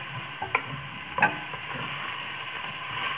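Vegetables with mint, beans and tomatoes frying in a pan, a steady close sizzle with a couple of sharp clinks and scrapes of stirring, no voices.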